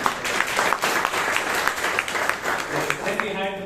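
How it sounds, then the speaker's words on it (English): A Toastmasters meeting audience in Bangalore gives a full round of applause, dense steady clapping from many hands sustained for several seconds, with a few louder claps standing out near the end. "Can we have a huge round of applause"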